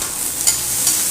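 Onion and tomato frying in oil for a lemon rice (chitranna) tempering in a pan, a steady soft sizzle with two brief stirring scrapes, close and continuous with no voices.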